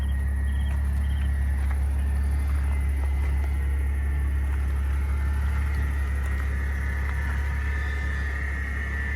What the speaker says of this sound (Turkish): aracımız Mercedes E 320 6 silindir 224 beygir